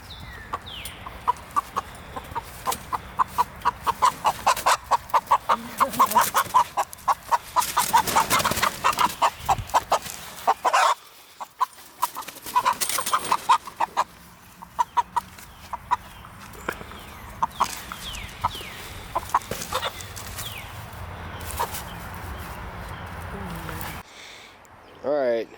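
A rooster on a chicken farm clucks and squawks in rapid, frantic bursts as it is chased and caught for butchering, loud and close, with scuffling, a brief quieter pause midway, and people talking at times.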